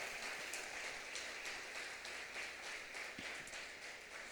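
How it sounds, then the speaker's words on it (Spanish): Faint, distant congregation applause at a church service, a dense continuous patter of many hands without speech, fairly uniform throughout. "Dele un aplauso al Señor, dele un aplauso al Señor."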